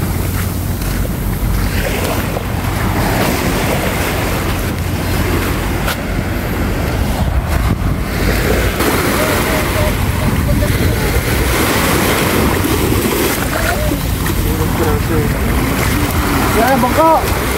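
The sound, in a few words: boat on the sea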